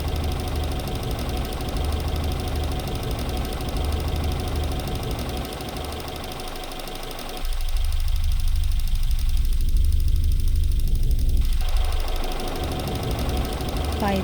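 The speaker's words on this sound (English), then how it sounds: "You are hearing both tapping sounds and rattling sounds now" A mid-sized engine runs with a continuous metallic tapping and rattling knock, loud and steady throughout, its tone shifting partway through as if filtered, with no voices.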